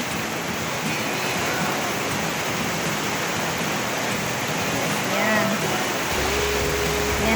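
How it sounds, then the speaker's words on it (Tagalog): Heavy tropical rain pouring down outdoors: a dense, unbroken hiss of water hitting surfaces, steady and fairly loud throughout. "Pero ngayon, oh no, ang lakas ng ulan."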